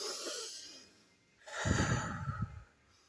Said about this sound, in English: Deep breathing is a big key, man.